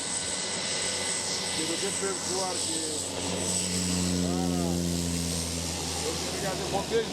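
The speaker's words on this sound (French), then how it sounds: "Voyons voir comment ce petit avion va décoller." A small propeller airplane taking off, its engine droning steadily and rising in pitch as it passes, with a crowd murmuring and voices in the background.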